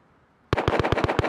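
Rapid burst of about eight sharp gunshots in the survival game Rust, loud and evenly spaced after a brief quiet start, with no talking.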